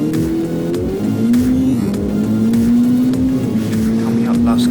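A Ferrari 488 Challenge race car at speed on a circuit, its engine note shifting as it brakes hard toward a hairpin, with a continuous loud in-car drone and tire noise.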